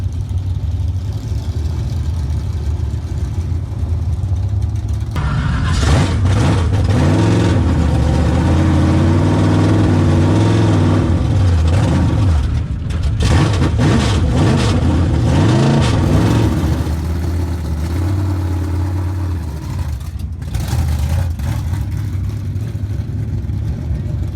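A B-mod race car engine firing up at Springfield Raceway after a flywheel repair: quiet, then a loud rough idle with uneven revving blips, a brief dip, and the engine catching again near the end.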